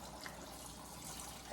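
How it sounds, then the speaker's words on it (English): Cold chicken broth is poured into a hot pan, giving a steady broadband liquid rush and splash with a soft hiss fading under it, close and continuous throughout, with no voices. "pouring all my chicken broth in."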